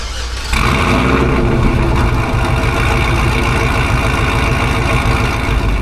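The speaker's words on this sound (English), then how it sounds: "it was the perfect opportunity to fire up the Supercharged LS Tahoe" A supercharged LS V8 in a Chevrolet Tahoe rumbles up loud after a brief quiet start, then settles into a steady, deep, throbbing idle close by.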